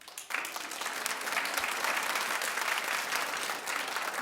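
A studio audience at a daytime talk show breaks into applause, a sudden onset followed by dense, sustained clapping that fills the room.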